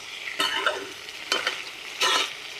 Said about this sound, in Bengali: ভালো করে চিকেনের সাথে মশলাগুলো মিক্স করে নিব ভালো করে কষায় নিয়েছি মশলার সাথে চিকেনটা